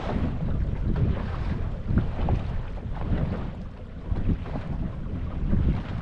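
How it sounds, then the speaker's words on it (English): High wind roars across a fishing boat while lake trolling, a constant, loud, gusting rush buffeting the microphone with no voices. "A struggle this morning. High wind."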